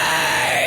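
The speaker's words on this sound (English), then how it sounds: "Fry scream." A fry scream, a harsh distorted vocal technique, blasts loud and raw in one short sustained burst, noisy and gritty with no spoken words around it.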